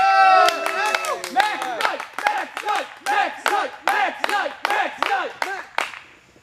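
A small wrestling crowd cheers for Max Knight, voices rising and falling with clapping that settles into a steady rhythmic chant, close and lively.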